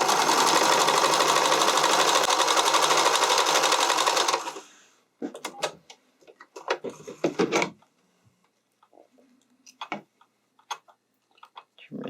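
A sewing machine stitching armhole elastic runs in one steady, loud mechanical whir for about four seconds, then stops, followed by scattered small clicks and handling taps from the fabric and machine.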